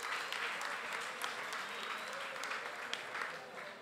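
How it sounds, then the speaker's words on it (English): Steady applause from a large crowd at a political party meeting, dense clapping sustained throughout at an even level, with a few faint voices mixed in. "keep the applause going"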